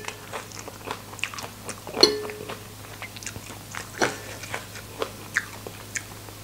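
Close-up chewing and slurping of stir-fried Korean instant noodles with curly kale, with irregular soft bites and wet mouth sounds throughout and a few louder crunches, with no talking.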